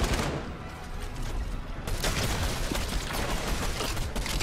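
Dense, continuous gunfire at a boss in the Fortnite Chapter 3 Season 4 video game, with loud rapid shots and crackling impacts layered without a break.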